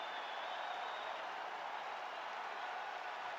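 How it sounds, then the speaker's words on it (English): Crowd at a UFC event applauding after a fight round, a dense, continuous wash of clapping and cheering from a large arena audience heard at a distance and at a steady level. "So the crowd voicing its appreciation after that round"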